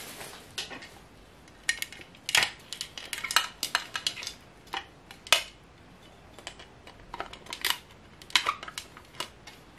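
Small plastic container lids from a home haul are handled close by, giving scattered light clicks and taps in an irregular rhythm against quiet background.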